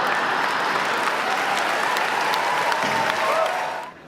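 Graduates at a commencement ceremony clapping together, a dense, loud wash of applause from a large crowd that carries on steadily and then tapers off near the end.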